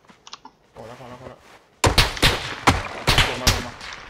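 Gunfire in a video game goes off as a run of loud, sharp shots spaced unevenly, after quieter clicks and a low rumble at the start.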